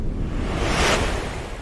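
An underwater water ambience from a sound design scene rolls as a continuous washing, surf-like rush that swells slightly midway, with no voices.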